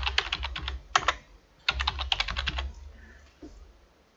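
Quick bursts of typing on a computer keyboard while a password is entered during a Linux installation, clicking in two clustered runs with short pauses, close and fairly quiet, with no talking.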